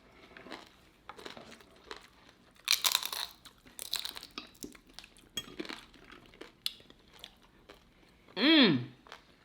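People eating a homemade enchilada taco bowl, close crunching and chewing mixed with cutlery clinks against a bowl, a brief muffled voice, and a loud humming vocal note near the end.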